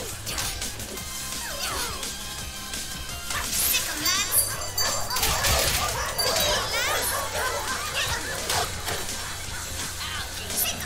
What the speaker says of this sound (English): Watch out for bitey dog.